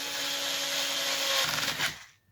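An electric screwdriver on a low torque setting briefly whirs while driving small screws into a Traxxas X-Maxx rear differential, a close, steady buzz lasting about two seconds before stopping.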